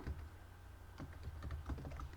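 Typing on a computer keyboard while entering a Python program: a steady run of quick key clicks, fairly close and moderately quiet, over a low background hum with no talking.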